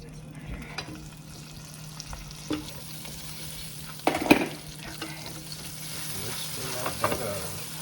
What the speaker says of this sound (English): so I'm going to go ahead and add in my butter now